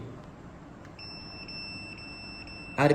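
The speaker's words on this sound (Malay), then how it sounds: "Dia bunyi tet, maksud dia dalam keadaan off dan sedang on." A Fluke T150 voltage tester switches on with a steady, high electronic beep that holds for about two seconds over faint room noise, followed by a brief louder clatter.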